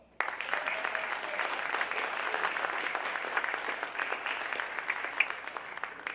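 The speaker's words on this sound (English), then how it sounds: "Let's give these guys a round of applause." An audience at a high school football awards ceremony gives a round of applause, a continuous, moderately distant wash of clapping that lasts the whole stretch.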